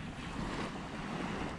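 Steady breeze rushing across a white-sand beach in St. Thomas with clear water nearby, a continuous broadband wind-and-surf wash close to the microphone, no voices.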